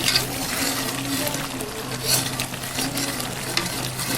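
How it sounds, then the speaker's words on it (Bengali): Mutton pieces sizzle and hiss while a spoon stirs them in a pan, braised for a long time for a Bengali curry. A steady frying crackle is broken by occasional scraping and stirring knocks, close and alone. "আমিও প্রায় মিনিট 40 তো হবেই আমি মাংসটা কষাচ্ছি"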